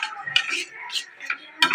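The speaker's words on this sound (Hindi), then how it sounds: "किसी मैगी मसला ऐड करवा भल से मिक्स करदे" Maggi masala being stirred into a home-cooked dish, a spoon scraping and clinking against the pot in short irregular bursts, close and moderately loud, with no talking.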